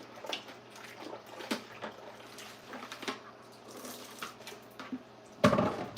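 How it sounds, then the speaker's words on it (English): Bowls rinsed under a running kitchen tap during home dinner cooking, a steady close water stream with scattered clinks and splashes, ending in a louder burst of rushing water. "Okay, then let me wash these off."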